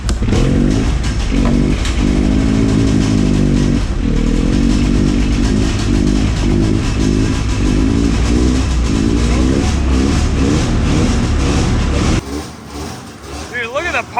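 A hovercraft engine runs loud and close with a rough, throbbing drone as the throttle is worked, rising and falling in pitch, then cuts off abruptly near the end.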